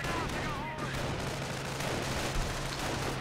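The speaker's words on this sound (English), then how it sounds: "They're going to be facing heavy artillery fire." Heavy artillery and gunfire from the Company of Heroes video game rumble continuously as a dense, steady battle din with overlapping blasts, mixed with background game sounds.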